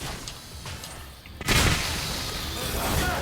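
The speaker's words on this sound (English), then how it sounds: "You just gotta shoot off the sucker's wings." Gunfire from the Devil May Cry (2013) video game, aimed at a fallen harpy's wings, breaks in as a sudden dense burst after a quieter stretch and carries on as a loud, sustained rattle of shots and booms.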